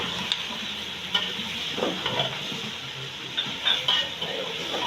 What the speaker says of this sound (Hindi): अब इसको हम गोश्त को इसे मसाले में लहसुन अदरक में अच्छी तरह से भून लेंगे।